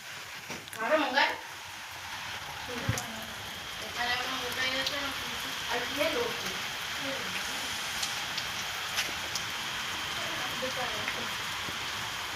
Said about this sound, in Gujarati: બાર ફૂલ વરસાદ ચાલુ છે વરસાદ